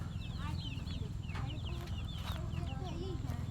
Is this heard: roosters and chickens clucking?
yes